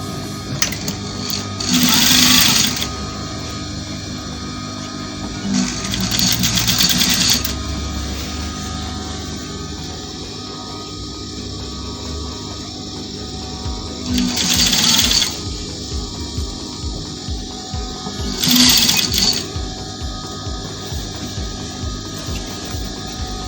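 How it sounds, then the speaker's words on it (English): A sewing machine stitching African fabric for a men's top, in four close, loud bursts of rapid whirring stitches separated by pauses, with quiet handling in between. "So we start stitching."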